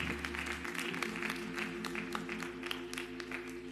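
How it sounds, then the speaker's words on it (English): A church congregation applauds together in a Sunday service, a steady wash of many hands clapping that holds for the whole stretch, with sustained musical tones underneath. "Let's give the Lord a hand clap of praise."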